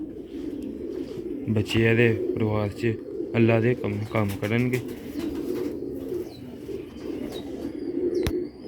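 Sialkoti pigeons in a breeding loft coo in repeated deep, rolling bursts close by, with someone talking between and over the calls and a sharp click near the end.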